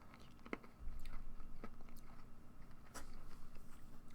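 Hard, salty licorice candy tablet being bitten and chewed, a few close crisp crunches followed by quieter grinding, heard alone.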